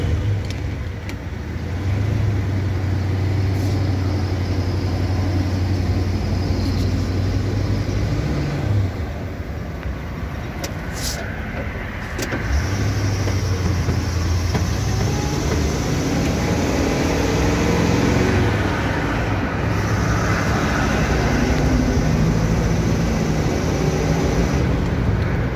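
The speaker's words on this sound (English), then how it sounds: "Take it down the road, it sounds awesome." A 1974 International Scout II with new seats and a Rhino-lined interior drives down the road, its engine rumbling steadily with a shift or lift near nine seconds and again at twelve seconds, mixed with road and wind noise.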